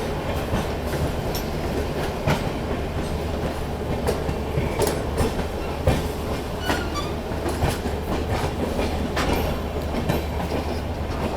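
A train hauled by a WAP7 electric locomotive shunts into a railway yard, heard as a steady, loud rolling rumble with regular clickety-clack wheel beats and occasional sharper clanks, with no talk.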